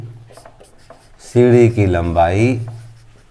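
Pen or chalk strokes from writing out an answer in a Class 10 maths lesson make faint scratchy rubbing, soon covered by a voice talking over them.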